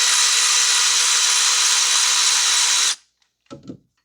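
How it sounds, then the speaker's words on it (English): An electric cordless ratchet spins loose a 14 mm bolt on a 2012 Toyota Corolla 1.8 during alternator replacement, a steady, close, high-pitched whir for about three seconds that stops sharply, followed by a brief metallic clatter. "So now I'm just using my electric cordless ratchet to remove the 14 millimeter bolt."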